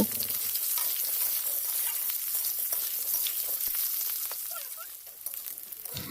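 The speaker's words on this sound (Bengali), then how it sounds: "তেলের মধ্যে ছেড়ে দিয়ে আলুগুলোকে নাড়াচাড়া করে একটু লাল লাল করে ভেজে নেব" Potatoes sizzle steadily in hot oil with black cumin, a dense continuous frying hiss with occasional stirring scrapes, close and fairly loud, no voices.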